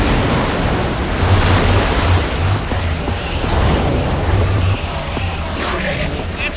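Water gushes and rushes out in Minecraft: Story Mode after a lever is pulled, a steady, dense roar like surf and wind that fills the whole stretch with low rumbling swells and no speech.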